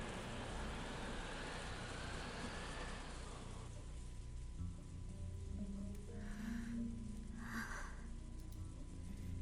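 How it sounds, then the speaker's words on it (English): Steady wind and rain in the Umineko no Naku Koro ni video game, a broad continuous wash of rainfall that thins after a few seconds, with faint soft tones and low rumbles beneath; no voices. "listening only to the wind and the rain"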